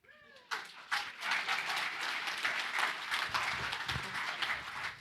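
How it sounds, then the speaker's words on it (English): Audience applause following a talk about a classroom education program. After a brief quiet start, dense clapping from many people comes in and holds steadily at moderate loudness until the end. "That's when you clap."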